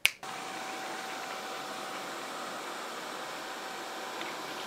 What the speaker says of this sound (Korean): 나루알 프레오가 진공 청소를 할 때는 이 정도의 소음이 납니다.